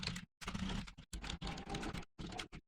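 Rapid typing on a computer keyboard while a registration form is filled in, dense bursts of close key clatter broken by brief pauses, with no voices.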